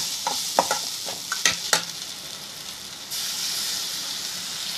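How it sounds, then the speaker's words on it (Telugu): Ginger paste frying in a pan for a quick snack, stirred with a few sharp scrapes against the pan over a steady close sizzle that swells louder near the end, with no talk. "అల్లం పేస్ట్ కొంచెం వేసుకొని కలిపేసుకోవాలి"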